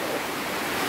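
Rain falls as a brief, steady wash of hiss, broad and continuous, with no other sounds.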